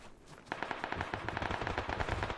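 Rapid automatic gunfire in the battle royale game PUBG, a steady burst of quick repeated shots after a short quiet lead-in, fairly close and clear with no talking.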